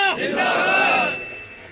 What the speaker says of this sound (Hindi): मैं नहीं चाहती कि आप मेरे नाम के नारे लगाएं